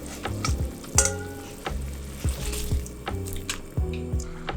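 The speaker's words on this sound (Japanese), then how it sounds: "では沸いてきたので、バスマティライスを加えます。" Basmati rice poured into a pot of water at a hard boil over high heat, giving a steady bubbling sizzle with a few sharp clicks and bumps from the pot, close and moderately loud, with no talk.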